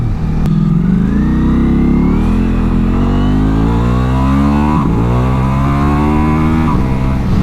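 A Ducati Multistrada V4S motorcycle engine revs loudly and climbs through the gears, pitch rising then dropping at each shift, close and continuous.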